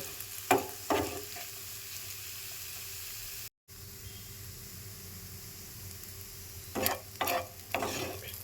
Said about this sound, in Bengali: আলু আর পেঁয়াজের সাথে ডিমটা দিয়ে আমি ঝুড়ে ঝুড়ে মতো করে নেব